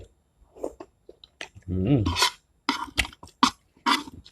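Grilled beef tendon meatballs are chewed close to the mic, with a few wet, rubbery chews and clicks between pauses. A short hum-like vocal sound occurs in the middle.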